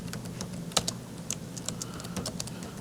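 Typing on a computer keyboard, quick irregular key clicks, close and fairly soft, over a low steady background hum.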